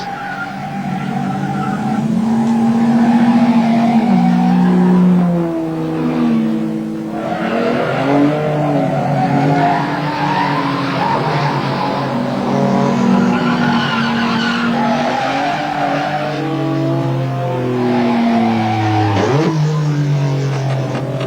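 Race cars in a competitive race roar past with revving engines and repeated tire squeals and skids. Engine pitch rises and falls over a loud, sustained stretch, with no talking.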